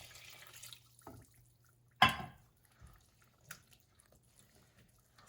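Warm water poured into a homemade play dough mix of salt and oil, heard as faint, sparse splashes and drips with one brief louder pour in a quiet room.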